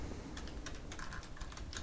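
A project name is typed on a computer keyboard in a quick, irregular burst of close, crisp keystrokes, with no talking.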